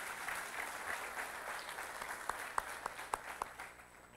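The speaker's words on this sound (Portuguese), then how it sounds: "Um aplauso para Jesus Cristo." A church congregation applauds during a sermon, a dense wash of clapping at moderate volume with a few sharper, louder claps standing out near the end.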